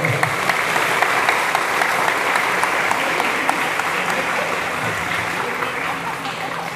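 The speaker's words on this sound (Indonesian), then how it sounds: "Ulangi tepuk tangannya." Sustained applause from a school audience at a madrasah gathering, steady dense clapping that fills the whole stretch, with voices mixed in beneath.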